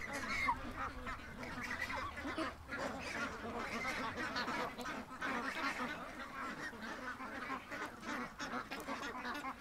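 Ducks and geese at a breeder pen quack and honk continuously, a dense overlapping chorus of nearby fowl calls with a voice faintly mixed in underneath.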